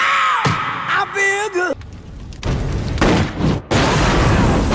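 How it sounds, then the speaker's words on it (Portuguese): A film explosion sound effect: a deep booming blast erupts after a brief vocal shout, followed by rumbling, crackling debris noise and a second burst, loud and up close. "para fazer o efeito de som da explosão"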